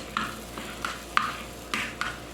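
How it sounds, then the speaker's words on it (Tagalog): Egg being mixed in a pan as a filling for kuboz Arabic bread, with a utensil scraping and tapping in about six separate sharp strokes over a faint sizzle, close by and with no talking. "I-mix ko lang siya dito ko na siya i-mix sa pan"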